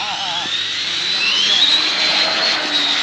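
An Arrma Kraton 8S RC car drag races past at speed, a high-pitched electric motor whine rising and holding near and loud, with people talking over it.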